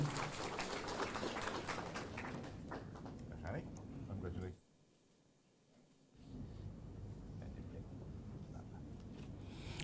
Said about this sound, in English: Shohei Habano, a big round of applause, ladies and gentlemen.